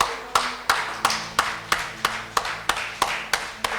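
A church congregation applauding, heard as a steady rhythmic clap roughly every third of a second, sharp and even, with faint background tones.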